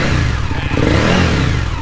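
A motorcycle engine catches on the first try and revs, a loud, steady, close rumble with clattering mechanical noise and no talk over it.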